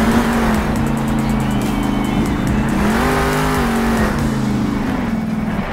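A monster truck in the Monster Jam Steel Titans video game roars with a loud, continuous engine drone whose pitch rises and falls as it revs, with tire noise and no talking.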